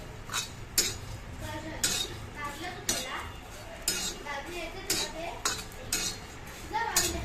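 Dried shrimp roasting on an iron griddle gets stirred continuously, each metal spatula stroke scraping and clinking against the pan in a steady rhythm, close and distinct over a faint low background.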